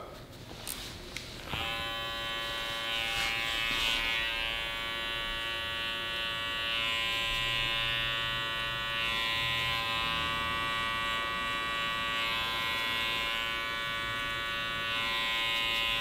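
Electric hair clippers cutting a skin fade: a click, then a steady, close, high-pitched buzzing that runs unbroken for the rest of the clip, with faint background noise beneath it and no clear speech.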